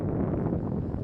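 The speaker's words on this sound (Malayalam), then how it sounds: "ഓ കാറ്റെന്നൊക്കെ പറഞ്ഞാണ്ടല്ലോ, ഒരു രക്ഷയില്ല, അടിപൊളി കാറ്റ്" Wind blows at Munakkakadav beach near Chavakkad, a steady low buffeting rush across the microphone with no other distinct sounds.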